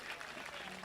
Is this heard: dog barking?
no